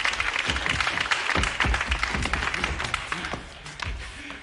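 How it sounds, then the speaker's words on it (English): Applause from an audience at a sketch comedy show, a dense burst of many hands clapping that gradually thins out and fades. "one hand clapping against the other makes a very nice sound for Sizzler"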